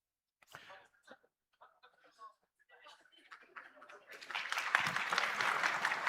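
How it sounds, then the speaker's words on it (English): A conference audience at a Limpopo investment event breaks into applause, starting with scattered coughs and a few claps, then swelling into sustained clapping across the hall. "So you applauded for killing tea break."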